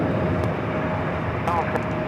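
A SkyWest CRJ 700 regional jet flying as Delta Connection sits on runway 24 left at LAX, giving off a steady, continuous engine roar heard from a distance.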